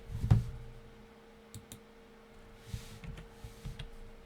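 A few soft, sparse clicks from typing on a computer keyboard, spaced irregularly over a quiet background, with one louder knock near the start.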